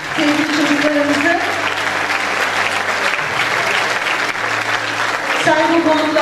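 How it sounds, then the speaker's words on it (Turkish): Audience at an award ceremony applauding children, a dense steady wave of clapping from many hands under a loud amplified voice and tonal music-like hum. "Bir daha ayrıca onun için alkışlayalım sevgili çocuklarımızı"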